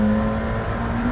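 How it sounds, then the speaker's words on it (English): A McLaren sports car on a track pulls with a steady, close engine drone and a tonal whine throughout a brief moment of acceleration, with no talking. "short shift and then feed in the power"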